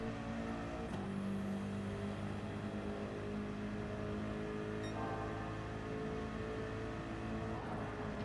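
A race car engine in the video game Gran Turismo 7 drones steadily and loudly through the whole stretch, with gear-change shifts in pitch and no talking.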